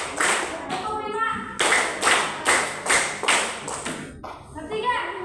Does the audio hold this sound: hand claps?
yes